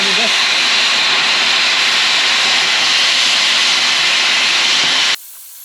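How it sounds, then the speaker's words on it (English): A big grinder grinds metal during a dumper repair, a loud, steady, harsh hiss close by that runs without a break before cutting off abruptly near the end. "Big grinder this."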